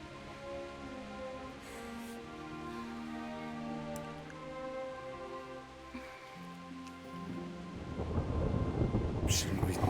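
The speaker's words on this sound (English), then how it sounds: "Not afraid of thunderstorms, are you?" A thunderstorm in the game Kingdom Come: Deliverance, with thunder rumbling and rain falling steadily throughout, building to a louder downpour toward the end.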